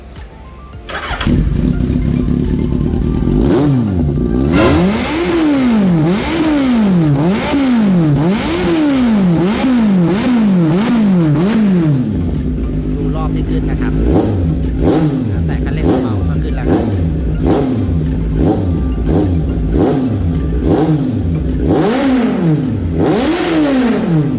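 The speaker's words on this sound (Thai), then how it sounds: "ปลายท่อเป็น7นิ้ว สเตนเลสหางพุด ครับเรามาฟังเสียงกันครับ" A Kawasaki Z800 fitted with a stainless slip-on exhaust with a 7-inch tip starts up and then revs repeatedly, with loud rising and falling engine sweeps close to the microphone. A voice speaks over the engine.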